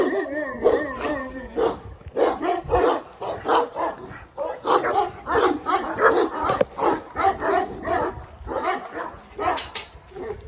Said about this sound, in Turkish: çok güzel bir boz çoban köpeği